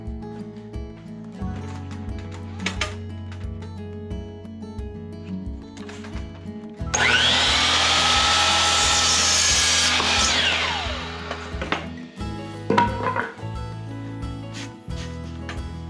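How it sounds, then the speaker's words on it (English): A chop saw cuts a board of wood for tack shed doors: one loud, sustained whining cut lasting a few seconds, standing out sharply from a quieter background with occasional knocks and handling before and after. "take this over to the chop saw"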